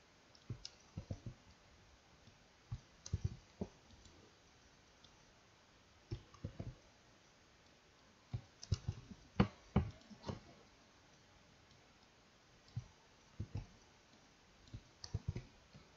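Computer mouse clicks while working in crystal-structure software on a computer, faint sharp clicks scattered in small clusters of two or three across a quiet background.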